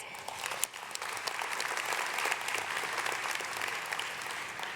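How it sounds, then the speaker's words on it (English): A full round of applause at a high school graduation ceremony, dense crowd clapping that rolls on steadily with a few sharper claps standing out. "Please join me in a final round of applause for all distinguished guests"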